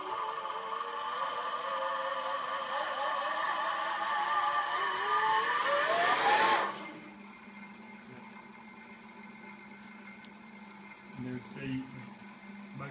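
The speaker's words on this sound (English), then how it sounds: "See motors turning in opposite directions." Sevcon Size 6 dual electric motor setup running under throttle in forward drive, a loud rising whine and whir for about six seconds that cuts off abruptly, leaving a low steady hum with faint clicks.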